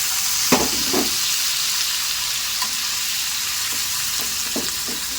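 Onions hitting hot oil with cumin seeds give a steady, loud sizzle, with a few sharp crackles and stirring clicks and no voices.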